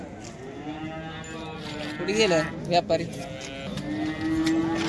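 Cows mooing at a busy cow and heifer market in Modnimb, a few low calls rising over the steady crowd murmur while someone talks nearby.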